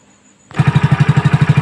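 A Hero Splendor BS6 motorcycle engine kicks in after a brief quiet moment and runs loud and close, with a fast, steady throbbing pulse, after a service and spark plug check.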